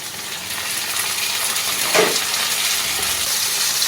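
Chopped tomatoes dropped into hot oil over fried onions for a taro and prawn curry set off a loud, steady sizzle, with a sharp hissing burst midway as the pieces hit the pan.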